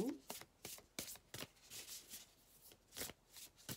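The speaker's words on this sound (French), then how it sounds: "Alors, je brasse les cartes." A deck of oracle cards is shuffled by hand in a quiet room, giving a series of crisp, papery riffling bursts at an uneven rhythm, close and fairly soft, with no voice over them.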